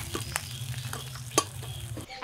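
Pieces of katla fish fry in hot oil in a wok, giving a continuous close sizzle broken by a few sharp metallic clinks and scrapes of a spatula against the pan.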